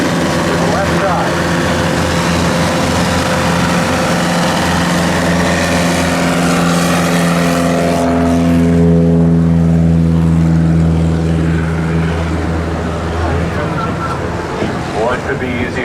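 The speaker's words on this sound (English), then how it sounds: "he's getting ready to fire up that 150 horse Lycoming engine" A bush plane with a 150 hp Lycoming engine runs up with a steady, loud droning roar and strong low harmonics that swell and shift pitch as it takes off, the sound dropping away near the end.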